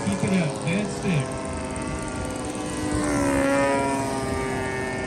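Propeller airplane flying at a Space City Pearl Harbor Day 2022 air show, a steady buzzing engine drone that swells and shifts pitch as it passes, with people talking and calling out nearby.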